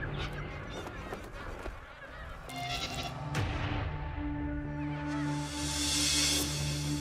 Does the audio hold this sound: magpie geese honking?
yes